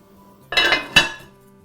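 A lid clatters onto a pot of seasoned collard greens set over medium heat, giving two quick metallic clinks close by, a brief gap between them and no talk.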